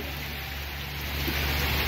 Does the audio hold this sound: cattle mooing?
no